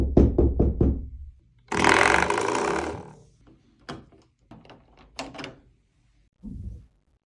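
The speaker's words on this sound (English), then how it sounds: "It's just me knocking on the door." Knuckles rap on a door recorded for sampling: a quick run of sharp knocks, then a longer rough scraping or sliding rumble, followed by scattered single knocks and thumps with silences between, close and dry.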